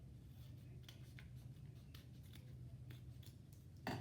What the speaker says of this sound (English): I can go around with my scissors and I can just trim around my original shape